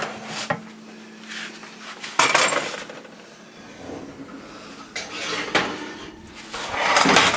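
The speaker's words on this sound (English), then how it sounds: "So let's put these in the oven." Metal muffin pan clanks and scrapes as it slides onto an oven rack, with a few sharp knocks and a rattling door movement in a quiet kitchen, no talking.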